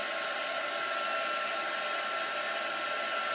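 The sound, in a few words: heat tool heat embossing a card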